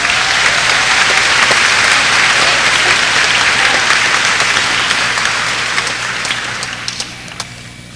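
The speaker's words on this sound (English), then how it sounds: "Big round of applause for Mr. Davenport's class." An audience claps loudly at a middle school recognition ceremony as a class is honored, sustained dense applause that gradually thins and fades toward the end.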